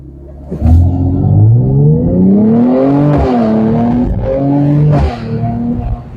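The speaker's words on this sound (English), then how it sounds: "I'm gonna do a small brake boost on the Merc right here" Mercedes C43 AMG with all-wheel drive launching hard from a brake boost, the engine revving up through rising gears with a brief dip at each shift, loud and close.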